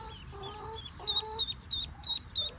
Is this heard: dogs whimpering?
no